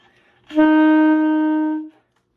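One steady saxophone tone on a low C, held evenly for over a second with a bright, reedy timbre, played alone in a quiet room.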